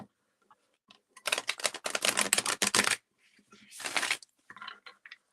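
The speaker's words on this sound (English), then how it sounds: "So I gotta shuffle them first." Quick riffling bursts of playing cards being shuffled up close, two main shuffles separated by short pauses and a few light clicks.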